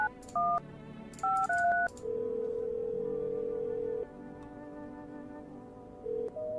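Phone dialing in the God of War game: several short, clear keypad tones in quick pairs, then a long steady tone, a pause and another brief beep, all crisp and alone.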